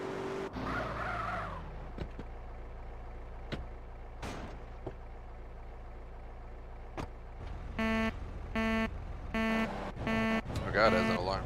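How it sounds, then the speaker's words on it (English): A car alarm in GTA San Andreas sounds as a series of short, evenly spaced electronic horn blasts near the end, following engine and skidding noises from the game. "Oh god, it has an alarm."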